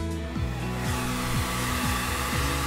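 Heat gun warming vinyl wrap at the corner of a car hood, blowing a steady close airy roar while a low rhythmic ticking repeats beneath it, with no talking.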